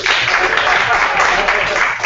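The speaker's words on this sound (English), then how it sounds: "Let's give it a round of applause" Dense applause from a crowd fills the moment, steady and loud throughout with no break.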